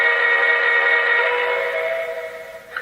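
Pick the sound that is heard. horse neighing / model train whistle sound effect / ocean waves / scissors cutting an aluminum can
model train whistle sound effect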